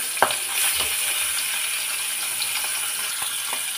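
Oil heats in a pan for frying fish heads, giving a steady, fairly loud hiss and light crackle with a few faint clicks, and no one speaking.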